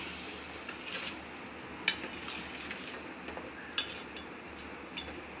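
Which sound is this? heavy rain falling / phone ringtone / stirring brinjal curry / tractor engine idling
stirring brinjal curry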